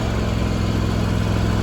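A John Deere X570 garden tractor engine runs steadily close by, a loud, even mechanical drone with a low rhythmic pulse and no voices.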